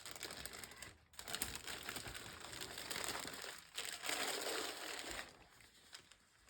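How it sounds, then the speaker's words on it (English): Packaging crinkling while a Hobonichi planner is unboxed, faint continuous rustling and crumpling of wrappers up close, varying in intensity with brief pauses. "Excuse all the crinkling."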